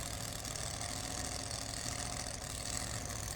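A 2WD pulling tractor's engine idles steadily at the start of a pull in an outlaw pulling event at Wisner, Nebraska, a continuous loud, rough rumble with no speech over it.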